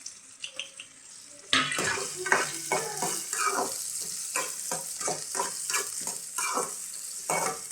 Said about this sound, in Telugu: ఉల్లిపాయలు కొంచెం దోరగా ఫ్రై అయ్యేంత వరకు ఫ్రై చేసుకున్నాం